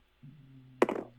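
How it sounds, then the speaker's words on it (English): Dice thrown in a board game land in one sharp clatter with a short rattling tail, close by over a low background hum. "I'm going to throw these dice out"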